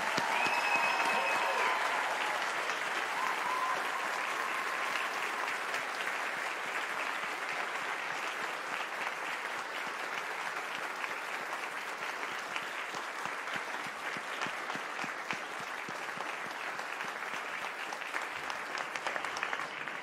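Sustained applause from a university convocation audience honouring supporters at a graduation ceremony, dense and steady for twenty seconds, loud at first and easing slightly, with scattered cheers at the start.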